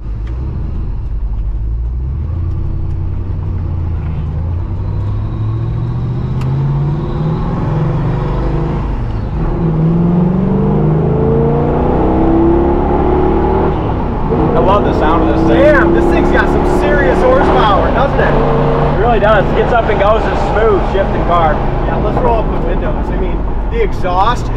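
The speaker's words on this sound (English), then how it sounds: "Exhaust is just absolutely perfect." A 1978 Pontiac Trans Am engine and exhaust rumble steadily at close range, swelling in pitch and loudness as the car accelerates during a drive.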